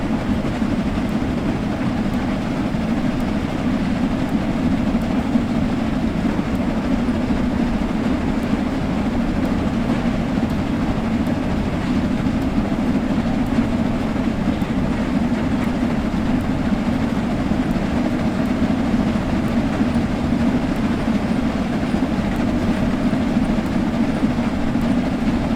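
A steam locomotive in Train Sim World 3 runs at about 40 mph up a 1-in-100 gradient, giving a steady, continuous rumble and rhythmic rail clatter with no talk.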